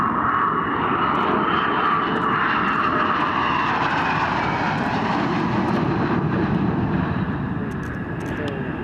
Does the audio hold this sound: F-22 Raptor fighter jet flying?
yes